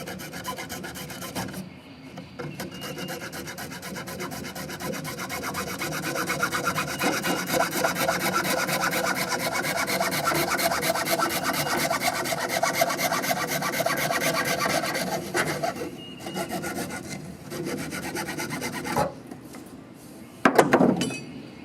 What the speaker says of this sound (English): just cut your piece of PVC